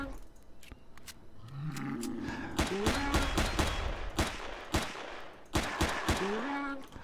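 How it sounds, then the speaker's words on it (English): Gunfire rings out in Empyrion Galactic Survival as a creature is shot, sharp bursts of shots repeating over a few seconds while a person talks over them. "So we can sit here and just shoot him in the butt."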